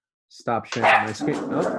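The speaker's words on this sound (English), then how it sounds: "that's my dog going a little crazy." A pet dog barks excitedly indoors in several quick yips and barks close to the microphone, mixed with a person speaking at the same time.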